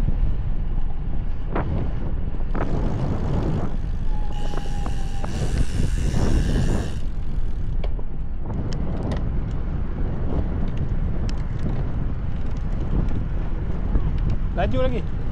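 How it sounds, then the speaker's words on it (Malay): Strong wind buffets the microphone on a night motorcycle ride, a steady broadband roar running throughout, with a passing engine hum and brief whines mixed in. "Angin agak kuat."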